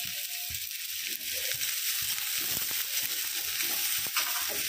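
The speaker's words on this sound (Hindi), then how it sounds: "अच्छी तरह से इसे चलाते हुए भून लेंगे।" Finely chopped medium onion, cumin seeds and a green chili frying in hot oil, an even sizzle close by with scattered scrapes and taps of a spoon stirring the pan, and no one speaking.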